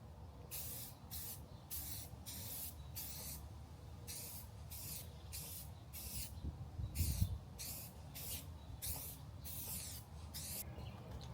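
A rattle can of Rust-Oleum gloss white automotive enamel spraying a truck skid plate in repeated short hissing bursts separated by brief pauses, steady and close.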